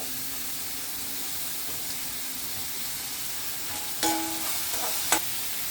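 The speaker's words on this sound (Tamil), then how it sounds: "அதில் இந்த வெங்காயத்தை போட்டு வதக்கிக்கணும். அதுலேயே அந்த பீன்ஸு கேரட்டு போட்டு வதக்கணும்." Onion, beans and carrot sauté in a pan with a soft, steady sizzle, and a couple of brief clinks of a utensil come near the end.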